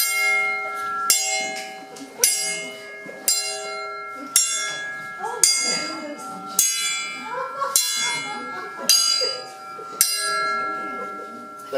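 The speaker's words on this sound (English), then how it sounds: "The clock chimes midnight." A clock chime rings out twelve evenly spaced strokes for midnight in an amateur stage play, each resonant tone ringing and fading before the next, loud and close.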